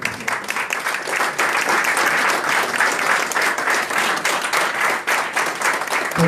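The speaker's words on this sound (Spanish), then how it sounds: "Fuerte aplauso para ustedes." A political youth gathering audience in Venezuela breaks into loud, sustained applause, dense clapping from a large crowd filling the whole stretch with steady intensity.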